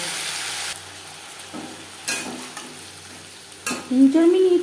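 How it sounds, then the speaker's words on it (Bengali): Flat beans (shim) frying with salt and turmeric in a pan for shim chorchori, a steady soft sizzle broken by stirring scrapes and clinks, ending in a short squeak of the spatula against the pan. "শিম ভেজে নেব।"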